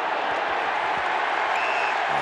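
Football crowd at a Carlton v St Kilda AFL match in 2011 reacting to a free kick, a broad roar of voices and scattered applause filling the stadium at steady loudness.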